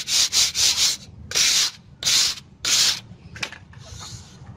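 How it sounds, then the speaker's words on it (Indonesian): Rhythmic strokes of 1000-grit sandpaper rubbing a teak wood finish, several quick back-and-forth passes in bursts, close and fairly loud, then fading to lighter scuffs. "selalu diamplas ambang ya, amplas 1000 biar lebih kuat nempelnya"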